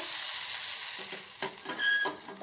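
Steady high sizzling as water is added to a hot tempering in a pan, with sugar, a few clinks and stirring scrapes toward the end; no voices.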